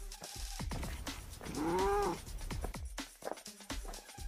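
A cat meows once in a drawn-out, rising-and-falling call, with handling noises and faint rustling before and after.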